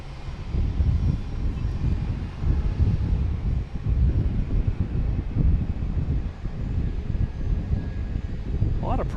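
JetBlue airliner flying past at Boston Logan Airport on a Friday, a moderate rumbling engine roar with wind buffeting the microphone, while people talk over it.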